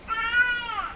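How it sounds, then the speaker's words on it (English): A pet cat gives a single drawn-out meow, close and clear, rising then falling over about a second against a quiet room. "it's a one-word cat, too. She's got one word. You've heard it."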